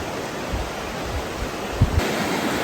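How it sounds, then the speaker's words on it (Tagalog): Clear, shallow river water flows steadily over dark, moss-covered stones, making a continuous loud rushing hiss close by with a few soft splashes. "Maganda agos ng tubig, hindi po masyadong malalim."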